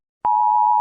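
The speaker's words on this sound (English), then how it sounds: "The EAS alarm!" An Emergency Alert System alarm tone starts abruptly after a short silence and holds as a loud, steady, piercing electronic note with no talking.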